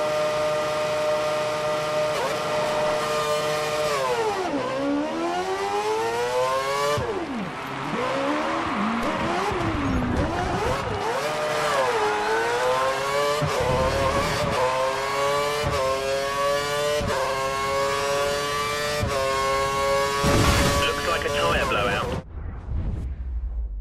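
A Formula 1 car engine in the F1 2013 game starts and revs, its pitch rising and falling in repeated sweeps of hard acceleration and gear changes, loud and close, with a voice speaking over it.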